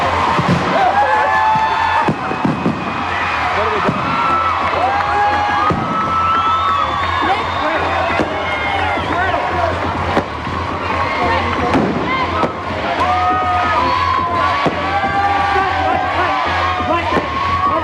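A crowd cheers and shouts at the Big Brother Australia live final in 2001, a loud, dense wash of whoops and screams with bursts of noise throughout, and voices talk over it nearby.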